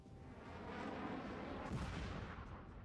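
Airstrike explosions in a war video game set in Afghanistan, a faint, distant rolling rumble of blasts that swells and fades with no voices over it.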